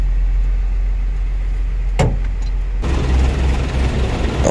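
A diesel car engine idles at steady normal revs after a dirty diesel fuel filter is bypassed, a low constant hum; a sharp knock lands midway, then the running noise grows louder and rougher for the last couple of seconds.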